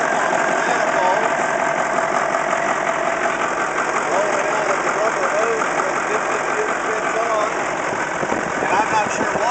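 Caterpillar 613C scraper engine running steadily up close with a rough, knocking mechanical rattle, the engine leaking oil around the piston tube and valve cover gaskets; a voice talks over the continuous drone.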